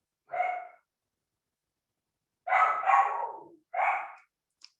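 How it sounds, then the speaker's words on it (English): A dog barks several times at moderate distance: one bark, a pause, then a quick double bark and a final bark, with silence between them. "your dog can bark"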